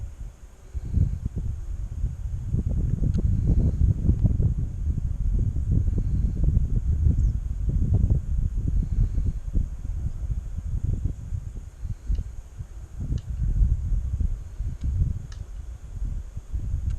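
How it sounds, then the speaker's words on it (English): Steady wind buffets around a fruit orchard, a continuous low rumbling roar that swells and eases in gusts throughout, close and fairly loud with no voices. "Pretty steady wind, but it's not really slowing us down."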